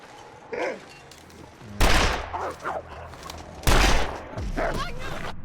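Two loud, sharp gunshots about two seconds apart ring out in The Long Dark survival video game, each with a short decay, while quieter in-game rustling and movement sounds fill the gaps.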